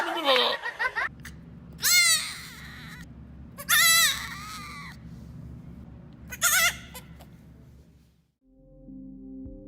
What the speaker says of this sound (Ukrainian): Гострота емоційного стану регулюється частотою та інтонацією мекання.